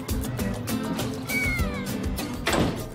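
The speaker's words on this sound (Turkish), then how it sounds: "Sen ne sevimli bir kedisin ya." A cat meows once in a domestic scene, a short rising and falling cry mid-clip, set against steady background noise and some household sound.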